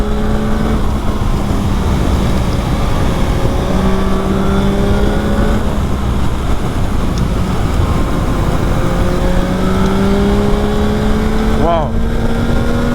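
A 2021 Yamaha MT-09 with its stock exhaust accelerates hard, engine pitch climbing repeatedly through several gear changes, loud and close with constant wind rush over the recording.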